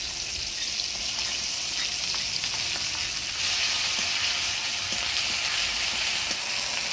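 Ginger, garlic and onion paste fries with chopped tomato in hot oil, a loud, continuous close sizzle and hiss that swells slightly midway, with faint stirring and no speech.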